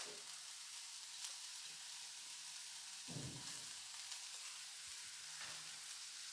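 Chopped garlic sautéing in a pan until golden brown: a faint, even sizzle with a few soft stirring scrapes along the way, no talking.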